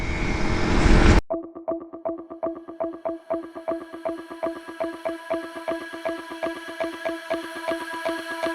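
A single-cylinder Honda CRF 300L motorcycle engine putters along in a steady rapid thumping rhythm, close and continuous, after a brief burst of loud wind noise at the start, riding in Rocky Mountain National Park tundra.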